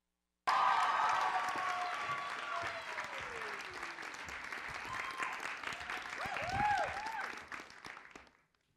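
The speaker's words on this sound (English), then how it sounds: "Can I hear some round of applause real quick?" Loud, sustained applause from a large conference audience, with scattered cheers and whistles rising near the end before it fades.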